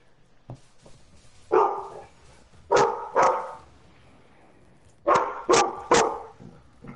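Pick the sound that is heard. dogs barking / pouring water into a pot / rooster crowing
dogs barking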